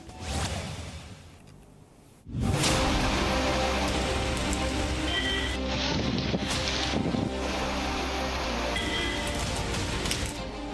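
Heavy unseasonal summer downpour in Gujarat pours steadily onto a hard surface, with gusty wind rumbling against the microphone after a quieter opening.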